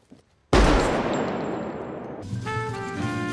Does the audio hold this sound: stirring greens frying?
no